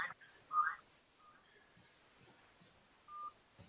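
Telephone keypad tones beep during a remote planning board meeting, a few short, distinct pitched beeps spaced apart over a quiet line with faint background sound.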